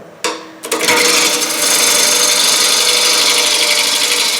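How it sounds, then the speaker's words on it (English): A gouge cutting a wooden bowl on a lathe: a couple of sharp contact hits, then a loud continuous rough shearing hiss as the tool peels the spinning wood, close and alone. "I'm going to use the bottom wing of the gouge with the fluke facing the wood."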